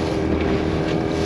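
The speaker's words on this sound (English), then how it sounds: "the wind's picked up" Gusty wind blows steadily across open estuary water during a fishing trip from a small boat, a loud continuous rushing roar with low buffeting and no pauses.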